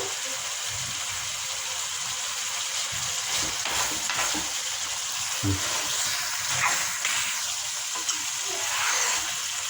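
Chicken dry-fries in oil in a pan as the masala releases its oil, making a loud, continuous sizzle with scattered stirring knocks and scrapes throughout.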